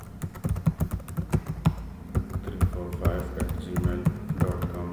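An email address is typed on a computer keyboard, with a quick run of close, uneven key taps and clacks that comes in bursts and pauses briefly in the middle.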